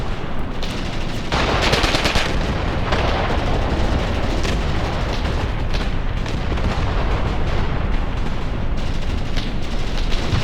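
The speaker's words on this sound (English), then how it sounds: "I need the anti-tank rifles to do their job" Continuous battlefield gunfire and heavy booms in Graviteam Tactics, with anti-tank rifle shots firing at an enemy vehicle amid sustained loud, dense shooting and explosions throughout, no talk.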